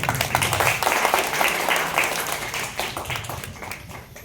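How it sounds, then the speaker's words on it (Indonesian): Audience at an employee iftar gathering applauds a visiting ustaz: a dense wash of many hands clapping, steady and fairly close, gradually thinning toward the end, with a faint voice mixed underneath. "boleh tepuk tangan buat Pak Imam"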